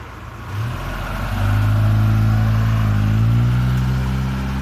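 A car on a street nearby, its engine rising from a low hum into a louder steady drone as it accelerates and passes close, with no talking.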